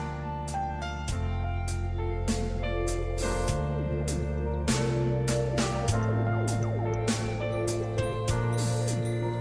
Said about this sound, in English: That's the sound of a minute repeater, which is a feature on some models. When triggered, it chimes the time.